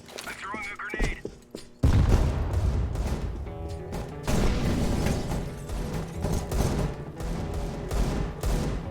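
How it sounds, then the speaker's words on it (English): A grenade explodes in the CS:GO shooter game, a loud broadband blast landing near the two-second mark, followed by continuous gunfire, booms and round-end game sounds, with some talk early on. "I'm throwing a grenade."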